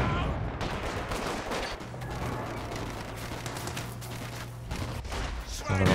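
Battle sounds from the World War II strategy game Company of Heroes 2: dense, continuous rifle and machine-gun fire mixed with rifle-grenade blasts, a steady loud clatter of overlapping shots with a low droning hum underneath.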